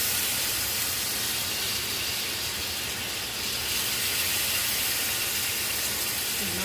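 Rice vinegar hitting a hot pan, giving a steady loud hissing sizzle that holds evenly for the whole stretch with no talking.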